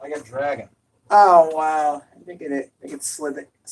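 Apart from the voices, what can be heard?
No everyday noises stand out.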